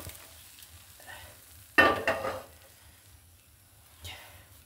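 Food in a home breakfast pan bursts into a sharp sizzle as it is flipped, a loud hiss that fades over about a second, with soft clinks of utensils before and after in a quiet kitchen.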